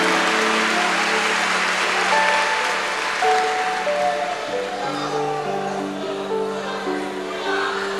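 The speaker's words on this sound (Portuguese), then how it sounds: "Aplausos a Jesus." A church congregation claps for Jesus during a Pentecostal-style worship service, a broad, sustained roar of applause mixed with voices and sustained musical tones throughout.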